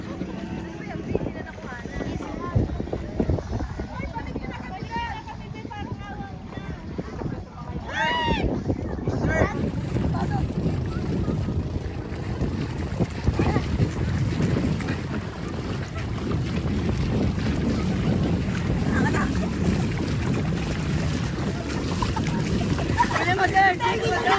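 Small boats on the sea off Calatagan, Batangas, putter in the distance under steady wind buffeting the microphone, with water lapping and people talking throughout.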